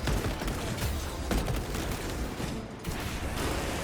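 Heroic pistol gunfire in the video game Space Marine 2, a dense burst of shots and impacts layered over loud, busy battle noise with no clear gaps.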